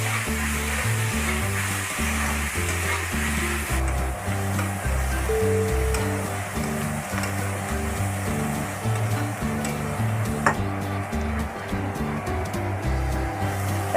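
Chopped onions with a pinch of salt frying in a pan, a steady close sizzle that goes on alone without a break.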